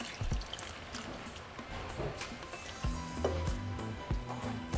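Broth poured into a pot of beef chile verde gives a soft, close splashing trickle with a few light clinks of a utensil, low in level and with no talking.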